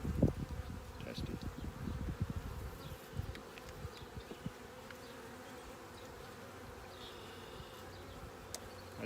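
Agitated honeybees buzz around an opened hive, a dense steady drone with loud close passes early that thin to a softer, even hum.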